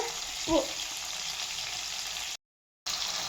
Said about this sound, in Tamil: லோ ஃப்ளேமில் பொரிச்சு எடுத்துக்கோங்க.